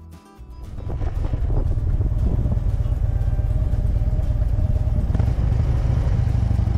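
A motorcycle on a country road near a covered bridge rides steadily with a loud, low engine drone and heavy wind buffeting on the microphone, rising after a brief start and holding constant.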